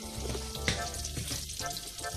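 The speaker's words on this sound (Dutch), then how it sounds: "en dan doe ik een beetje olie erbij, niet te veel, want dat moet ik natuurlijk gaan bakken" Meatballs fry in a pan of butter and a little oil, giving a steady close sizzle and crackle throughout, with one brief louder pop.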